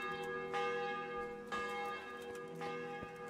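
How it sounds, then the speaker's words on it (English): A church bell in the medieval game Kingdom Come Deliverance tolls in rich, ringing strokes about once a second, each strike swelling and decaying with a sustained metallic hum beneath, heard alone without talk. "That bell must be a good sound."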